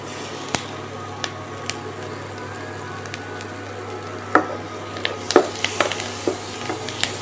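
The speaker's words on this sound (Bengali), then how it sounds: "পেঁয়াজটা কিন্তু প্রায় ভাজা হয়ে গেছে" Onions nearly done frying in a kadai for egg pulao, giving a steady soft sizzle with occasional sharp spatula taps and scrapes, busier toward the end, and no voices.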